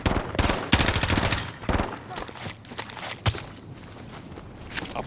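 Rapid gunfire and bursts of automatic weapons in Call of Duty: Modern Warfare, loud and close, with several sharp shots and footstep-like clatter between volleys.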